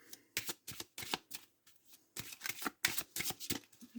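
A deck of tarot cards being shuffled by hand, a rapid series of close, crisp riffling and slapping bursts with brief pauses between handfuls, no voices.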